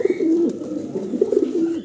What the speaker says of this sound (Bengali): দর্শক, ভিডিও স্ক্রিনে আমরা দেখতেছি এখানে চমৎকার 2 পিস কবুতর আছে